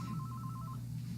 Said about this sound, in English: That phone just rang in the other room